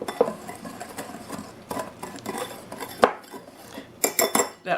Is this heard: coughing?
no